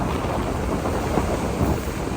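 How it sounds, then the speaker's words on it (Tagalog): Rain falls in a dense, continuous hiss, loud and close, mixed with rumbling gusts buffeting the microphone. "So may ulan na tayo."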